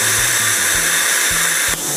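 A Predator plasma cutter keeps blowing air after shutoff to cool its tip, a loud, steady broadband hiss that holds for the whole stretch with a slight dip near the end.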